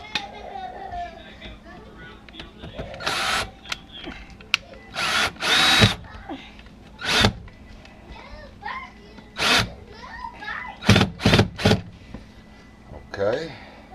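A power drill whirs in short, repeated bursts while boring a pilot hole for a magnetic safety lock, each burst a few seconds long and fairly close, separated by quiet gaps with soft handling sounds and occasional talk.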